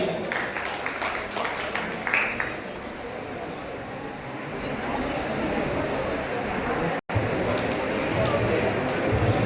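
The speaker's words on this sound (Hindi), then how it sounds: "बच्चों के लिए जोरदार तालियां।" An audience applauds children at a Madhya Pradesh tourism quiz prize ceremony, a dense, steady wash of clapping that holds for the whole stretch with a faint murmur of voices beneath.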